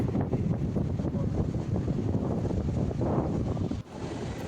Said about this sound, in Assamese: ঠাণ্ডাটো বেছি লাগি লাগি আহি আছে আৰু খুব বতাহ দি আছে